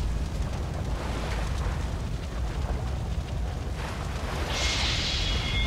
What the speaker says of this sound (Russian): Авиакатастрофа.